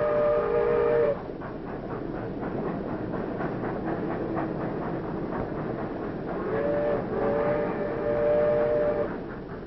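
A banana railway train in a tropical country rumbles along with a steady rolling clatter, and its whistle sounds at the start and again later in two long tones over the rail noise.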